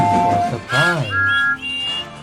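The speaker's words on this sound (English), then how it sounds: "there was a chorus of engine whistles" A chorus of toy steam engine whistles from a Thomas & Friends model railway sounds in several overlapping tones, with short high whistle blasts following one another at close range, loud and without speech.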